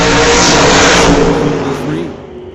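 Drag racing cars, among them a Shelby Mustang, roar off the line at an old-time drag meet, a loud, dense engine blast that fades as they pull away.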